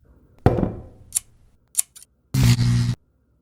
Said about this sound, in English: Please fetch me a pair of scissors.